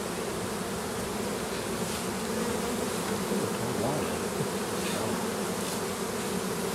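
Honey bees buzz steadily inside an open Langstroth beehive during a swarm split and queen cell check, a dense, continuous close-up drone with no voices.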